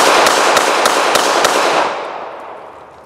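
Rapid string of about six sharp gunshots from a Beretta Model 80X Cheetah pistol, loud and close, with a washing echo that trails off after the last shot.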